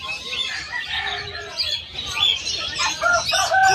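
Chickens cluck and crow among other chirping birds at a busy pet market in Malabon, a dense, fairly close chorus of overlapping calls.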